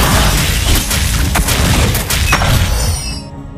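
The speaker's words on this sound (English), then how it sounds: "you destroy the turret!" A turret being destroyed in the Mobile Legends game, a loud dense crashing explosion with crackling debris that fades out over a few seconds, heard alone.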